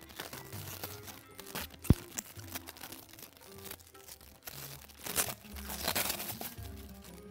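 Packaging being unboxed, with irregular crinkling and rustling of wrappers and a sharp snap or tap partway through, moderately close, continuing in uneven bursts.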